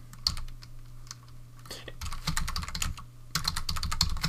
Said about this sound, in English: so I've just typed in the phrase there